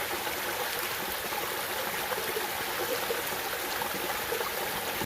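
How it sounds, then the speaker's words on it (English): A small creek trickles and babbles over rocks on a gorge trail, a steady close wash of water that runs evenly and alone without a break. "Just crossed over this little creek. My wife would absolutely enjoy that just because of the sound it makes."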